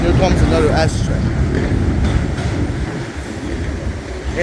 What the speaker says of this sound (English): Alright, here comes another S train.